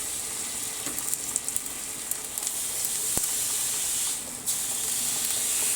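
Louisiana-style smoked Barnsley chops laid fat side down on a hot grill sizzle steadily, with scattered crackles and pops and a brief drop in the hiss partway through, and no talking.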